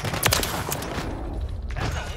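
Gunfire crackles in a video game match, several quick loud shots bunched at the start and more scattered bursts after, with an excited voice talking over the game audio.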